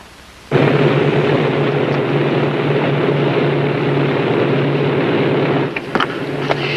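Airplane engines run before takeoff, a loud steady roar that starts abruptly and holds close and constant, with a few faint knocks near the end.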